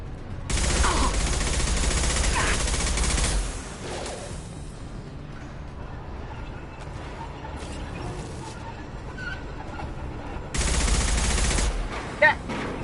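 Sustained automatic weapon fire in the sci-fi shooter Mass Effect 2, with a loud burst at the start and another near the end, separated by quieter action noise and a few faint clicks.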